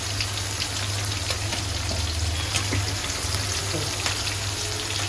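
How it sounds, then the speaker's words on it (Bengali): Shrimp frying in a pan of hot oil, a loud continuous close sizzle and crackle with scattered pops and spatters over a low steady hum. "এই দেখেন চিংড়ি মাছটা খুব সুন্দর করে লাল লাল ভাজা ভাজা হয়ে গেছে।"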